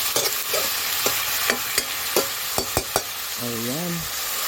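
Eggplant adobo being stirred in a frying pan, a run of sharp scraping and clacking strokes over a steady sizzle, close and fairly loud, with a brief whistling tone near the end and no talk.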